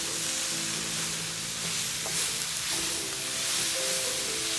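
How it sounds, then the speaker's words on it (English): Cabbage fries in a pan, releasing its own juices, a steady sizzling hiss with faint tonal hums and small clinks, no voices. "It's almost like a fried cabbage because all vegetables release their own juices."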